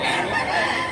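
A rooster, a gamecock offered for sale, crows in a single loud, close, harsh burst that fills the whole moment.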